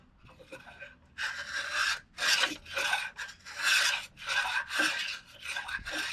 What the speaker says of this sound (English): Take the planer, put it down, and you're going to feel it bite just a little bit.